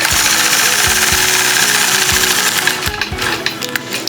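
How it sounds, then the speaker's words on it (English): A sewing machine does free-motion quilting on a sunflower quilt design with a ruler. It runs loud and close in a fast, steady mechanical chatter of stitches, with a few low thumps and a brief slowdown near the end, and no speech. "It looks like I need to stitch over a couple more stitches to there."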